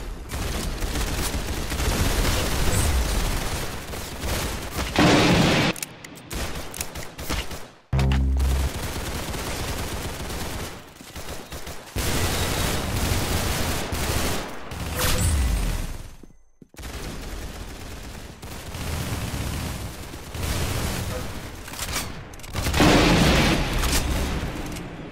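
Rounds of gunfire from real firearms at a shooting session, loud bursts recurring across the span with brief silent gaps between strings of shots.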